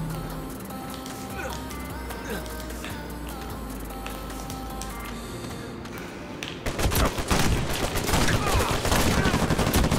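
Gunfire in Uncharted 4: A Thief's End multiplayer on PS4, quieter game action with music giving way to loud, dense bursts of automatic shots in the second half.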